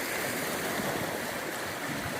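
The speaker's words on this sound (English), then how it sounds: "it's picked up the waves here" Lake Superior waves wash continuously against the shoreline, a steady broadband rush with soft low surges, close and fairly loud, with wind mixed in and no voices.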